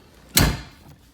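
A Roxor composite cab door shuts with a single close, solid thud that decays quickly into a quiet interior.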